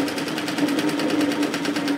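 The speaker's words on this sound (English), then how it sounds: "I'm sewing a second line of stitching because I like the look of it." A sewing machine runs fast and steady up close, its rapid rhythmic needle clatter and motor hum stitching a second line along a sweater, with no speech.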